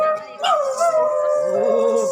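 A storyteller imitates howling dogs with a long wavering vocal howl, loud and close, rising briefly and then sliding down.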